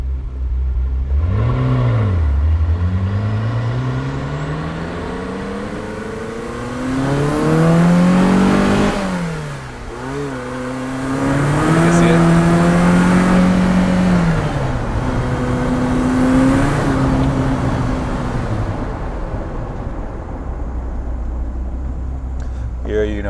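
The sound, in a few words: Ferrari 288 GTO engine accelerating with turbo boost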